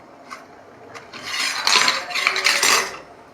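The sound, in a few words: adding flat beans into a pot of cooked lentils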